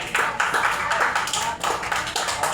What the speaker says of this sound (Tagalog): bigyan natin na tatlong palakpak ang ating mga sarili